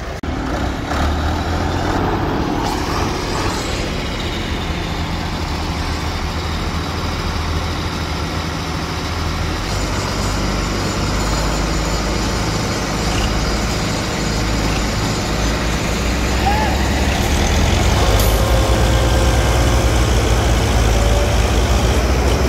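A Belarus 510 tractor engine labors in a steady, heavy low drone as it strains to pull free, loud and continuous throughout with rumbling noise and no clear talking.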